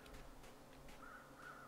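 Crows caw in the video game The Long Dark, several rough calls spaced across a quiet, faint background, with a couple of higher drawn-out cries near the end.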